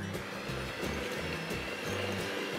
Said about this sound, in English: I'm just using my electric hand mixer